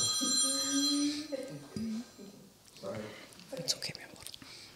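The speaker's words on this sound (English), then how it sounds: "Oh, that's my husband's phone." A mobile phone rings with a steady electronic tone through the opening second, under nearby whispering and soft talk that continue afterward.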